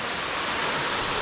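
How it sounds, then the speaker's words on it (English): A waterfall in Springbrook National Park pours in a dense, even hiss of falling water, heard up close from behind the falls above a small dome-shaped lagoon, with no voices. "Walking behind that waterfall, this little dome lagoon."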